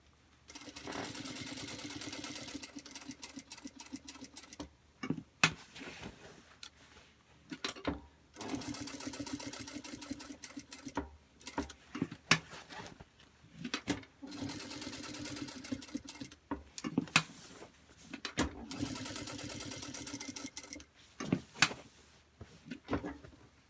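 Sewing machine stitching a fabric bag, running in several bursts of steady whirring separated by short pauses, fairly close and alone with no talk over it.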